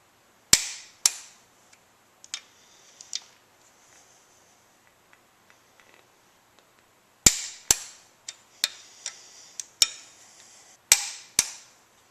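Torque wrench tightening the cylinder head bolts on a 1995 Suzuki Sidekick engine to 40 foot-pounds, sharp loud clicks, two at first and then a rapid cluster of several clicks, separated by near silence.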